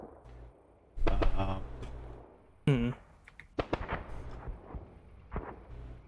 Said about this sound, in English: Mortar just dropped some bombs on the far side of town.